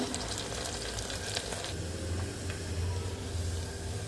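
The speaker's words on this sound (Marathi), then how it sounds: "कांदा टाकूया आता. थोडं पिंकिश होईपर्यंत भाजून घेऊया." Chopped onion fries in about three spoons of hot oil in a pot, giving a steady, close, dense sizzle that holds evenly throughout with no voices.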